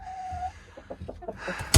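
Chickens cluck in a henhouse, giving several short, close calls in quick succession that end in a louder squawk.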